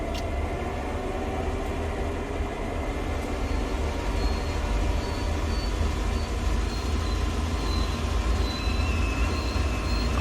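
Train in a train simulator game, a loud continuous rumbling roll of wheels on track with faint intermittent high squeals of wheels coming through, steady throughout and with no talk.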